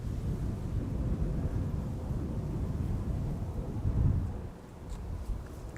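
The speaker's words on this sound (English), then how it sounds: "airplane passing by overhead." A deep, rumbling roar of an airliner passing overhead near Amsterdam Schiphol Airport fills the air continuously, swelling slightly before easing off, with no talking.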